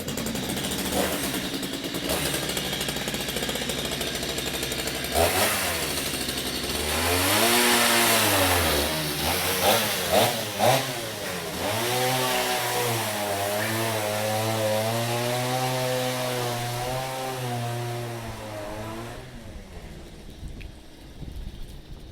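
A chainsaw runs loudly and close for a long stretch, its engine revving up and down with whining pitch sweeps before cutting off at the end.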